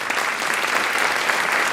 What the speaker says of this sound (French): Oui, applaudissements ce soir,